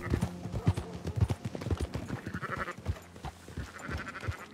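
Sheep bleating in the video game Red Dead Redemption 2 as a flock is herded, several close bleats over rhythmic hoof clip-clop, fairly quiet, with no talk over them.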